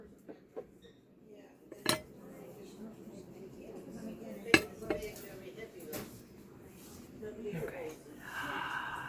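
Fostoria glass bowls clink and knock together as they are handled, several sharp scattered clinks amid quiet rustling, with people talking softly throughout.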